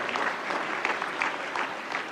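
Audience applause at a national film awards ceremony as a Silver Lotus recipient walks to the stage, a steady dense patter of many hands, moderately distant and continuous.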